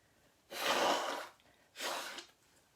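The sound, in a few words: nose blowing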